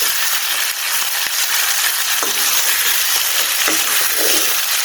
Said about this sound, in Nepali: प्याजलाई गोल्डन ब्राउन जस्तो हुन दिउँ है.